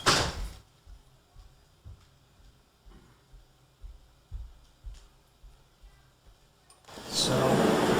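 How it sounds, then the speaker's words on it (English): Faint scratches and soft thumps repeat at a back door as a dog paws at it, spaced roughly every second in a quiet room, ending in a louder rush of noise. "the dog came in the back door and is scratching at the door"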